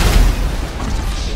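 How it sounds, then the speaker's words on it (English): Gas pump exploding in GTA V, a loud low boom with a rumbling tail that fills the short moment. "That was a lot of explosions. What blew up? A gas station?"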